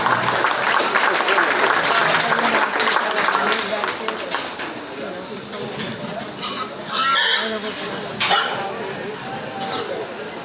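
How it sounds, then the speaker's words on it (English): Crowd applause at a county fair 4-H swine show, steady clapping that gradually fades, with an announcer's voice and scattered livestock and barn noises mixed in. "Let's give those girls a nice big round of applause again."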